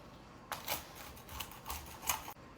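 A knife cuts through a thin, crispy potato flatbread topped with rosemary and red onion, giving several sharp crunching cracks in an irregular rhythm, close and fairly quiet.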